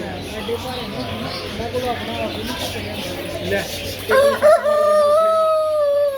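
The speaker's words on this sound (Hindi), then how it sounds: "अब आपको दिखाते हैं अलग नस्ल के मुर्गे" A rooster crows clearly near the end, cutting through a busy din of voices and bird chatter at a bird market in Sharjah, UAE.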